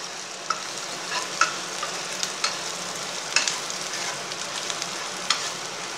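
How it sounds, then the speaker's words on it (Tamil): Chopped onions with salt sauté in a hot pan for a Tamil banana-flower poriyal, a steady close sizzle broken by light scraping and clinking as a spoon stirs them every second or so. "கொஞ்சம் வெங்காயம் வதங்கிக்கிறோம்."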